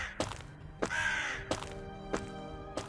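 Several loud crow caws ring out in a row, with one longer drawn-out call near the middle, against a low background murmur.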